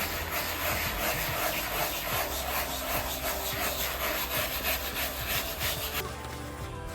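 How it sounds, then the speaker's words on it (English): Wire brushes and sandpaper scrub steadily across rough out saddle leather, a close, continuous dry rasping with a rhythmic back-and-forth texture that runs throughout without any talking. "I got my wire brushes and my sandpaper once again, and I'm just gonna start doing it again"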